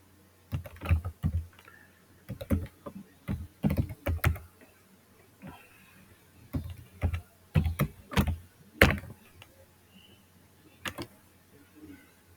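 Keys clatter on a computer keyboard as an email ID is typed, in irregular clusters of sharp clicks with short pauses between bursts, close and clear with no talking.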